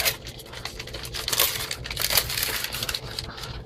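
A chocolate bar's wrapper crinkles and crackles close up for a few seconds as it is peeled open, with irregular rustling bursts throughout.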